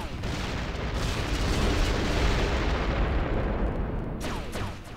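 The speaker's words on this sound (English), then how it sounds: "that chain explosion would be neater if it actually had any payoff" Rumbling chain explosion in the video game Descent 3, a dense sustained roar of overlapping booms that swells and then slowly tails off, loud and filling the whole clip without speech.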